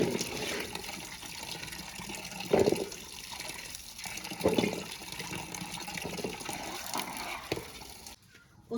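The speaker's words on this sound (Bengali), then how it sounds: "কচুগুলা আমি ভালো করে ধুয়ে নিতেছি" Mukhi taro roots being washed in water in a home kitchen, a steady running and splashing wash with occasional louder sloshes as the roots are rubbed and turned, then a sudden stop.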